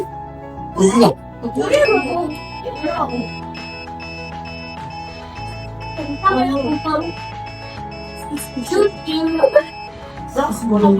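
A buzzer wired to a NodeMCU with an RFID reader and servo sounds a sustained electronic tone that shifts in pitch in stepped, even notes, steady under a person speaking intermittently nearby.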